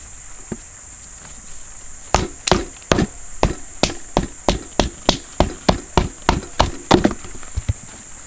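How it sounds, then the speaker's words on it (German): Axe blows chop the corners off a split log at a wilderness survival camp, a steady series of about fifteen sharp, evenly spaced strikes after a few lighter taps, close and loud over a constant high insect drone. "Und jetzt werden hier noch die Ecken weggespalten."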